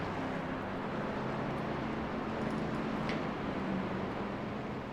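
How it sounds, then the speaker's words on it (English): Race car engines hum quietly under caution behind the pace car at Atlanta, a steady, low, distant drone mixed with broad crowd-like wash and wind, with no sharp revving. "Hear all the very quiet engines trying to make this not a fuel mileage race."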